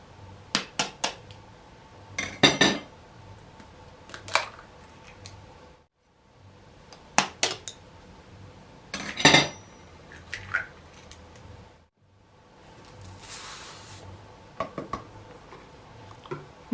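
Utensils clink and scrape against a bowl while a hamburger mixture for Japanese hambagu is mixed, giving irregular close taps and short scrapes with quiet pauses between bursts.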